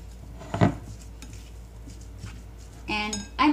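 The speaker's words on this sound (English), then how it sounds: "mix all the ingredients here" Homemade longganisa ingredients, including minced garlic and onion, are mixed in a bowl, giving one loud clatter of utensil against dish, then softer stirring sounds and a few brief clinks near the end.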